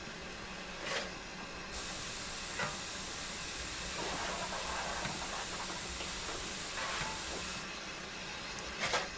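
A steam locomotive's small ejector hisses steadily in a railway simulator on the Penwyth Valley Railway, a continuous broad airy rush running unbroken, with faint clanks now and then and a slight lift in intensity partway through.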